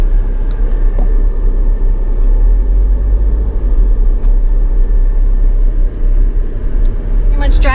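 Strong wind whips around a Jeep Rubicon driving through sand dunes in a dust storm, a constant loud rumbling buffet with deep low roar and no letup.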